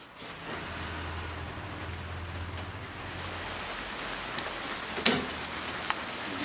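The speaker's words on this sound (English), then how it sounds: "Listening to that rain out there" Rain falls steadily outside, a broad hissing wash with a low rumble in the first half and a couple of sharp drips or knocks near the end, with no talking.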